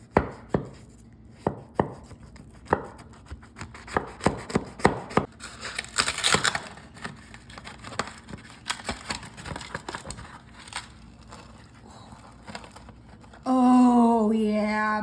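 A knife cuts into a crispy cheese-crusted breakfast, giving a run of sharp crunchy cracks and taps close by, irregular and fairly loud, followed by a brief burst of a voice at the end.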